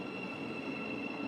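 A train at a UK railway station: a steady rumble with a high, sustained wheel squeal, close and continuous, with no voices.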